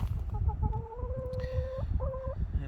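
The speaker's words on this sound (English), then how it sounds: "And we still have a couple of chickens out, which is kind of unusual." Chickens giving drawn-out, wavering clucks at dusk outdoors, several calls in a row with short pauses over a low rumbling background, moderately near.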